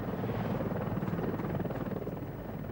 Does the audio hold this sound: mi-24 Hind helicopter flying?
yes